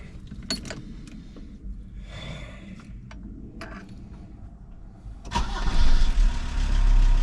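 A car engine, just after its injection pump timing was set, cranks with scattered clicks and sputters, then catches and starts, settling into a louder, rough, steady idle close by.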